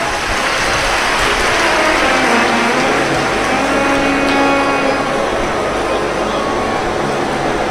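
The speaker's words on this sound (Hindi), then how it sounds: "एक बार जोरदार ताली बजाकर उनके लिए साधुता" A large audience at a live Shiv Mahapuran religious discourse claps loudly, a dense, sustained wash of applause filling the whole stretch at full volume.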